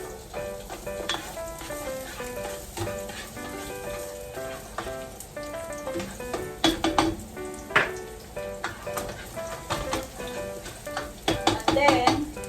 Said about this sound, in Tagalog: let's saute the garlic